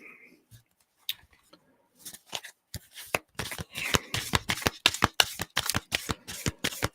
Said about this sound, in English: Let's pull a few cards